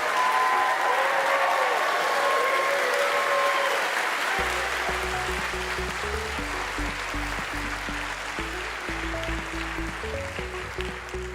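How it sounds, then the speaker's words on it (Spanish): Sustained audience applause fills a conference hall at Congreso Futuro 2023, a dense, steady wash of clapping from many hands. Partway through, music starts up underneath and carries on beneath the continuing applause. "Con este aplauso cerrado hacemos una pausa"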